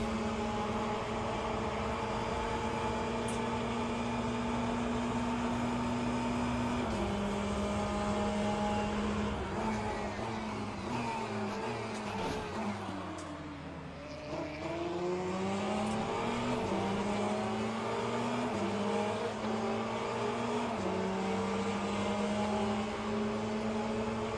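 A Ferrari race car in a sim racing game on Road America accelerates in a continuous loud engine drone. It climbs through the gears with pitch shifts, briefly dips and falls as if braking, then revs up again.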